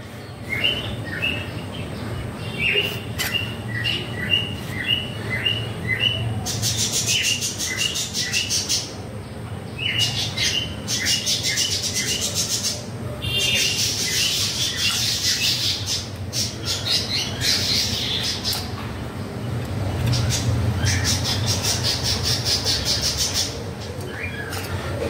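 Pet birds, including a small Java sparrow, squawk and chirp in rapid bursts close by, a busy overlapping chorus that runs throughout with a faint background hum.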